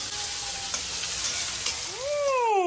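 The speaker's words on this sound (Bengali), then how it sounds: "এখানে ভাজা হচ্ছে বেরেস্তা" Onions frying in oil as crisp fried onions for homemade chicken biryani, a steady close sizzle throughout with light stirring.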